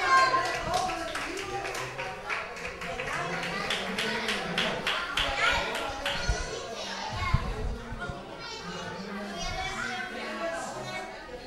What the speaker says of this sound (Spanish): Un aplauso para él y los campeones.